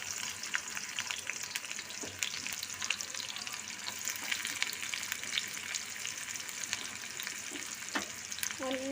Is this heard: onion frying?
yes